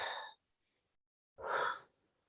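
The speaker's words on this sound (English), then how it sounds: "Breathing out." A person exhales audibly during a yoga forward fold, two clear, close breaths separated by a short silence.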